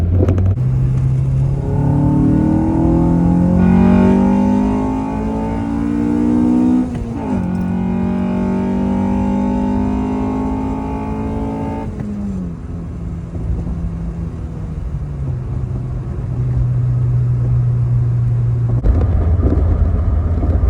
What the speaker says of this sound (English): It's just that raw VTEC sound, B series, K series, it just does it.